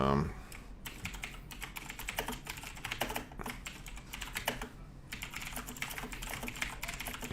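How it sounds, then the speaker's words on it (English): A loud, noisy computer keyboard clacks in rapid, steady bursts of typing, close to the microphone, with a brief pause partway through and faint background sound. "You can hear my loud, noisy keyboard, right?"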